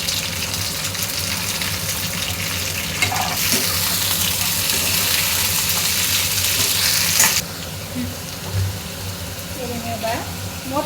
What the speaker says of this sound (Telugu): నేను ఇందులో ఒక 1/2 కేజీ నాటు చిక్కుడుకాయలు వేస్తున్నాను